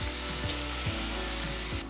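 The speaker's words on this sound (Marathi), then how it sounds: "आपण परतून घेतले तर आता ही अर्धी कढई भाजी झाली आहे" Spinach bhaji being sautéed in a wok, a loud steady sizzle of frying with periodic scraping stirs roughly every half second, close and without talk.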